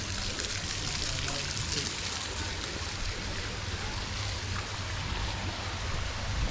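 Water flowing steadily in a pond in a Chinese garden with koi, a constant soft rushing wash heard at a distance, faint and unchanging throughout.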